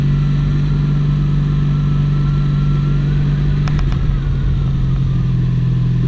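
Air-cooled Honda V65 Magna motorcycle engine with dual overhead cams, running steadily during a night ride, a constant low drone with a strong hum and a continuous mechanical whir, close and loud throughout.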